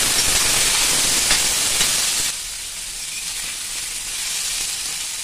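Peeled tinda (apple gourd) fries in oil in a pan, giving a loud, steady hiss and sizzle that drops to a softer, even crackle partway through and carries on without any voices.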